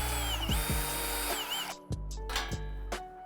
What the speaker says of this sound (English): don't forget to drill your hole to hang the turkey